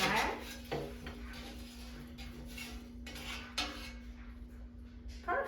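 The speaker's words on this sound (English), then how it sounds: "So let's take it out of the air fryer." Air fryer basket pulled out after cooking frozen cauliflower, giving a few close metallic clatters and a sliding clunk over a steady appliance hum, with brief knocks near the end.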